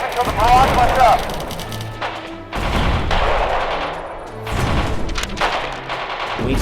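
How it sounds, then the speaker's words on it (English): An artillery barrage in the video game Radio General pounds continuously, with loud booms and rattling gunfire layered close together and a voice talking over the din. "don't move until the barrage lets up."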